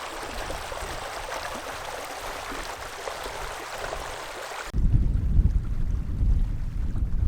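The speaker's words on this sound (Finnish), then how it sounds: "Kyllä on taas niin nätti puro, että ei kerta kaikki." A small wilderness stream in Paistunturi flows steadily with a broad, continuous rush, then the sound shifts near the end to a closer, lower, heavier gurgle of water.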